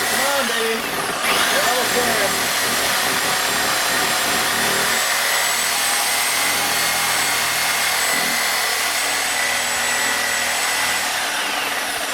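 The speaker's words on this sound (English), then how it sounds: "the Sawzall diamond grip blade worked excellently" A Sawzall reciprocating saw fitted with a diamond grip blade cuts during a Ford Ranger master cylinder swap, giving a loud, continuous high buzzing whine that holds steady for over ten seconds, its tone shifting partway through.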